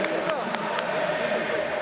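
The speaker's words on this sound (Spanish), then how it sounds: "Ahora la ovación es para Palermo." Stadium crowd ovation for Palermo at a Boca vs. Godoy Cruz football match, a loud continuous roar from the stands with a few sharp bangs over it and a commentator talking throughout.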